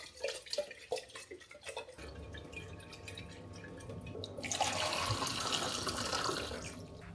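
Sprouting broccoli and mung bean seeds are rinsed with water, with a few quiet drips and splashes at first, then a steady running stream that grows louder and fuller halfway through before easing slightly at the end.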